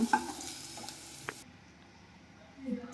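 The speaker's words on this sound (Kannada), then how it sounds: "ಈ ಬಾಣಲೆಯಲ್ಲಿ ಮಾಡೋದ್ರಿಂದ ಚೆನ್ನಾಗಿ ಉರಿಬೋದು ಬೆಂಡೆಕಾಯಿನ." Okra stir-frying in a pan, a soft steady sizzle with a couple of sharp spatula clinks near the start, fading quieter toward the end.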